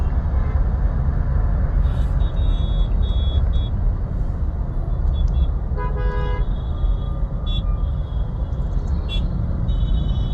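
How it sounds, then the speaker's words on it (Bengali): A car sits in a city traffic jam, with a constant low engine and road rumble under repeated short horn toots and one longer multi-tone honk from nearby vehicles. "সোজা রাস্তায় প্রচুর পরিমাণ ট্রাফিক জ্যাম দেখা যাচ্ছে।"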